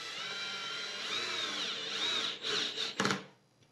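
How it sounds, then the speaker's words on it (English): A power drill whines steadily as it drives a screw into a ski while mounting NNN BC bindings, pitch rising and falling under load, then stops with a brief burst of rattling at the end. "I like to drill them all the way down initially"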